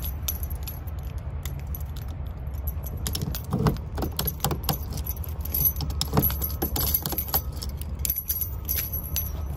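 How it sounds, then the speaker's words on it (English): Octo try-out keys for door entry and ignition access jangle steadily on their ring as each one is tried in a car lock, with bursts of metallic clinking and small clicks over a low background hum. "you have to try each key until you find one that turns"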